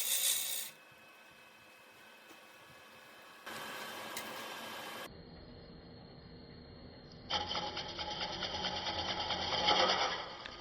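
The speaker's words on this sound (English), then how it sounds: "we're just going to use push cuts to start shaping the bowl" Turning tool taking push cuts on a wooden bowl spinning on a lathe: a steady mechanical whir with bursts of hissing, scraping cutting noise that start and stop abruptly, growing louder and rougher toward the end.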